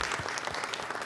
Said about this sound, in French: je demande encore un maximum d'applaudissements à tous nos amis ici